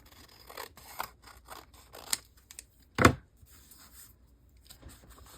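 Scissors cut paper for an art journal in a quiet room: several soft snips and rustles, then one sharp, louder cut near the middle.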